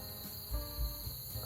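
Insects chirp at night along a quiet street in Yilan, Taiwan, a faint, steady high trill running unbroken, with a few soft low thumps underneath and no voices.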